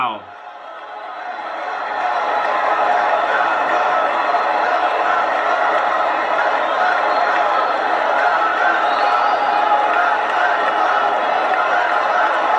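A packed crowd at the Republican National Convention roars and cheers steadily as a man walks out on stage, a dense, continuous wall of voices lasting about twelve seconds.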